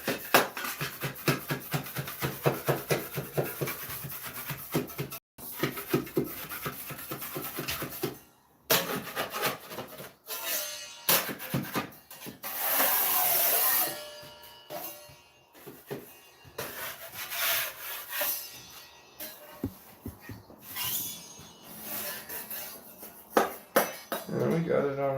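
Excess material is scraped off the edges of a Texas Mickey jack with repeated short rasping strokes and scuffs, some bursts louder than others, broken by brief pauses and a few knocks.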